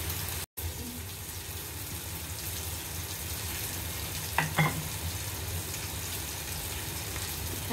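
Food fries quietly in a frying pan, giving a soft, continuous sizzle with a brief dropout near the start and a couple of faint clinks partway through. No one talks.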